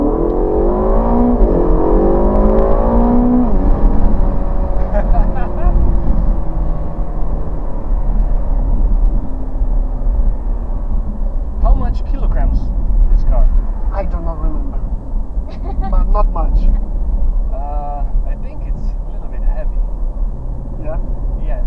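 A chip-tuned Ferrari California T accelerates hard at full throttle, its engine note rising through rapid gear pulls and staying loud and close throughout, with people talking over it inside the car.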